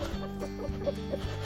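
Cochin hens and roosters cluck close by in short repeated bursts over a low, busy barnyard backdrop.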